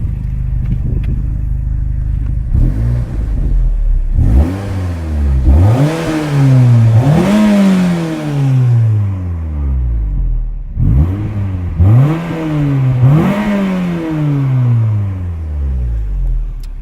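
A Peugeot 206 GTI 180 hot hatch engine revving hard, several rising, roaring bursts in two groups with idling between, loud and close, with no talking.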